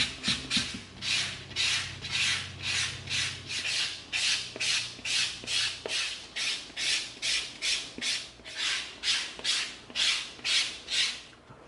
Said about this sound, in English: let's get our 220 sanding stick out and let's smooth that edge just a little bit more